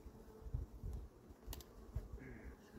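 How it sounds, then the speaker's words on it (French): A honeybee trapped in a beekeeper's pocket during a summer hive inspection gives a faint, muffled buzz, broken by soft rustling thumps of cloth, with no one speaking. "je pense que j'ai un abeille dans ma poche"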